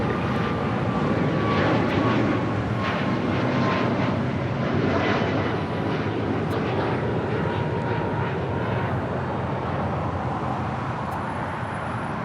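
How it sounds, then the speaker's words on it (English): An Alaska Airlines Boeing 737 MAX 9 departs with a sustained, fairly loud jet rumble that stays even, with a faint whining tone early on and distant traffic hum underneath. "That was Alaska Airlines Flight 1263 heading to Redmond in the 737 MAX 9"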